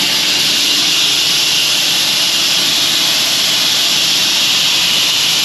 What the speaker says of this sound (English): just running the conveyor a little bit to get any junk out of it